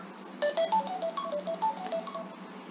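Phone ringtone playing a short melodic electronic tune of quick bright notes, clear and close, heard alone before being answered.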